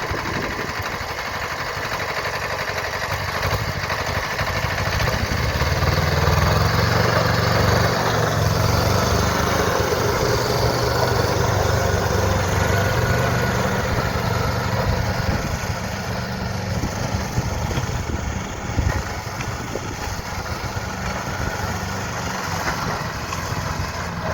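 Kubota mini tractor engine running on a farm while hauling manure, a steady close diesel drone with slight swells in load, no talk over it.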